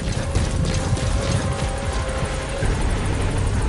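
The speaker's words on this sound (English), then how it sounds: "All right, the chopper's touching down." A helicopter lands in Metal Gear Solid V, its loud steady rotor roar and thumping blades filling the scene continuously and close by.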